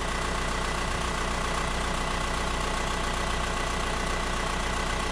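Car starter motor spinning freely without engaging, a steady dense mechanical whirring and buzzing that holds constant and loud for the whole stretch, with no voices.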